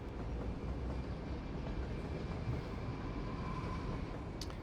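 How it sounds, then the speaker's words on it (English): Trains rolling into a station in Cities Skylines make a steady low rumble, a dense continuous murmur of rail noise at moderate level with a faint whistle-like tone near the end. "There's actually 2 trains coming in at the same time here now, look."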